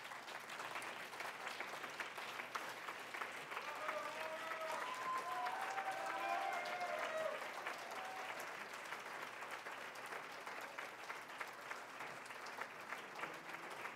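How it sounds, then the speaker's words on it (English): An audience claps steadily for the whole stretch, swelling slightly in the middle before settling into even, sustained applause. "So he's hearing your applause"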